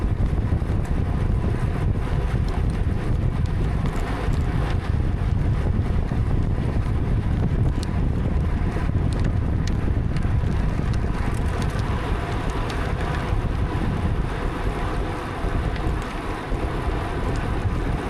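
A north crosswind buffets the microphone of a cyclist during a fast bike race on a power circuit, a loud, continuous low rumble and roar that barely eases across the whole stretch.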